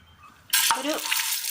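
Bird's eye chillies drop into hot oil in a pan with a sudden loud sizzle that keeps crackling steadily, after a brief clink of utensils.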